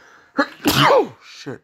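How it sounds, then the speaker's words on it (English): A single loud sneeze close to the mic, preceded by a short exclamation and followed by a brief spoken outburst. "I'm about to sneeze."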